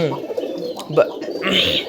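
Pigeons at a pigeon farm coo softly and repeatedly, close by, with brief chirps and a rustle of movement in the background.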